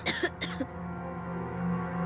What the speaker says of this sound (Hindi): खांसी जो आ रही है